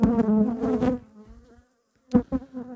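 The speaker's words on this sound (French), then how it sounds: "vous me verrez travailler avec les ruches pour lesquelles j'ai confiance et je sais que l'agressivité est moindre" Honey bees buzz close by around beehives in two short loud bursts of droning hum, with a near-silent gap between them.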